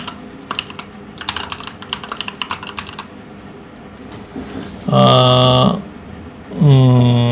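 Rapid clusters of keystrokes on a computer keyboard while coding a Rust HTTP server, close and crisp for about three seconds, then quieter taps, followed by two loud low grunting or burp-like voiced bursts.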